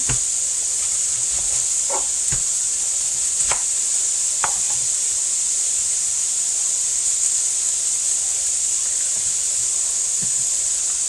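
A knife cuts through a whole onion on a cutting board in a kitchen, with a handful of sparse, crisp chops spread over the stretch, set against a steady background hiss, with no talking.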